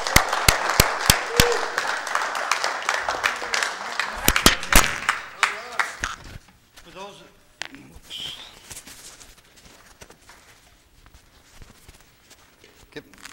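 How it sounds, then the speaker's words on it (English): An audience at a public forum applauds, a dense, lively crackle of clapping for about six seconds that then thins into scattered claps, with rustling, footsteps and some talk as it dies away. "let's give him a warm round of applause"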